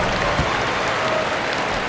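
Home crowd in an NBA 2K23 arena in Toronto for a Raptors game against the Dallas Mavericks, a loud, steady, continuous roar of cheering and clapping that fills the whole moment.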